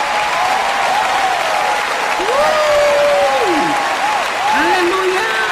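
An audience at a church gathering applauds the mothers, loud continuous clapping with voices calling and cheering over it.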